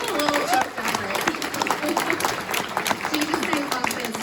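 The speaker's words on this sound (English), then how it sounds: "Can we just give her one more round of applause?" Audience applause at a health conference keynote, a mix of scattered claps and crowd noise with voices mixed in.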